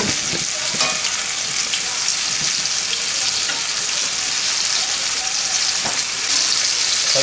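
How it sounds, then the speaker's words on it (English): Venison shanks sear in a hot cast iron pan, a loud, steady, dense sizzle with no gaps and faint crackles running through it, no talk over it. "we're adding our shanks in there just so we can get them all nice and brown"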